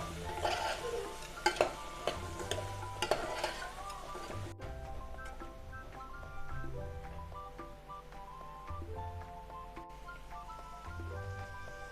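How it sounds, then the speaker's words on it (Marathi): Vegetables being stirred into spices in a pan for masala rice, with soft scraping and clinks of a spoon against metal repeating through the mix, close and moderately loud, no voices. "भाज्या आपल्या व्यवस्थित या मसाल्यांमध्ये मिक्स करून घ्यायच्या आहेत।"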